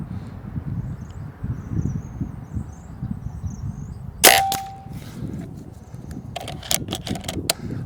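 Air rifle firing pellets at a target, a single sharp crack with a ringing metallic clang partway through, followed by a few lighter clicks over low background rumble.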